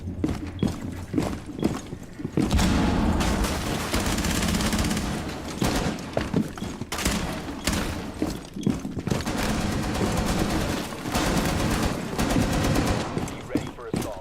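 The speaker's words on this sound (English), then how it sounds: "Yeah, I'm shooting the whole thing up." Sustained heavy gunfire as a wooden counter is shot up in a shooter game, with dense rapid bursts and loud continuous firing throughout and voices talking underneath.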